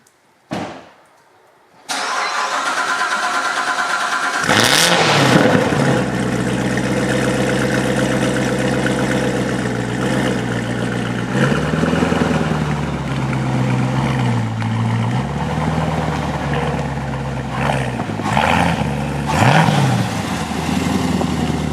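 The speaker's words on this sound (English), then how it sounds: "cold start Borla X pipe" A Corvette fitted with a Borla X-pipe exhaust cold starts in Arctic winter snow: a short starter crank, then a loud close engine catch and flare, settling into a rough high idle with occasional blips.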